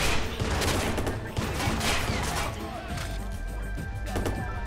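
Rapid gunfire in the video game Watch Dogs, dense overlapping bursts and sharp shots running through the moment, loud and close, with a faint voice underneath.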